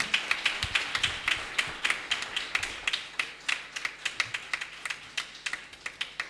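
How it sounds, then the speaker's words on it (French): An audience at a New Year's Eve crossover night church service applauds as pastor Jim arrives: steady, fairly quiet clapping from a modest crowd in an even, regular rhythm, with no voices over it. "Sous vos acclamations, notre pasteur Jim."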